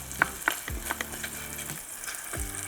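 Shrimp dropping into warm oil in a pot, a few sharp clinks and splats at first, then a low, steady frying sizzle close by.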